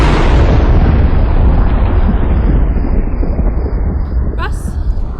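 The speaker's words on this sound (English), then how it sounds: "A meteor. It must have landed out in the field there." A meteor crashing into a field lands as a loud, sustained roaring rumble that slowly fades, with a faint high whine near the end, presented as a film sound effect.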